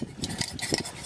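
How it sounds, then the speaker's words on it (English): A small, inexpensive metal camping stove is folded up by hand, with several light metallic clicks and clinks of its arms snapping into place, close and brief with no talk. "Fold up the stove,"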